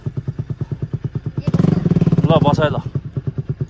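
Bajaj Pulsar NS200 motorcycle idling nearby with a steady pulsing engine throb, briefly revving louder midway while a voice speaks over it on a mountain road in the Nepal hills.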